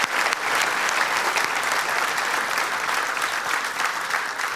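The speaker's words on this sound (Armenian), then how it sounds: "Եկեք ծափարենք" An audience applauds, a dense burst of clapping that starts at once and keeps a steady, full level for a few seconds, loud and close, without speech.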